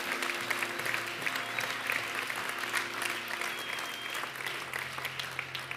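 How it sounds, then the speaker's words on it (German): A church congregation at an Easter service applauds steadily, a continuous wash of many hands clapping at moderate distance, with a low hum running underneath throughout. "lasst uns einfach mal, ich habe die 5 gesehen, den Leuten einen Applaus geben, die diese Entscheidung getroffen haben."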